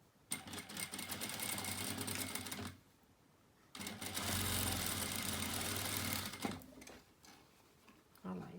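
A sewing machine stitches fabric for a round cloth trivet, running in two fast rattling runs of several seconds each with a brief quiet pause between them.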